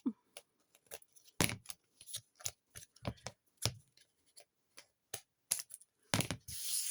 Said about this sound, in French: On prend les ciseaux et on vient couper tout ce qui dépasse.